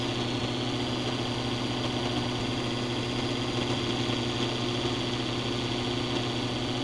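Steady drone of the Wolf's turbo diesel engine held back from full throttle on a test drive, a constant low hum with a thin whine above it, close and unchanging.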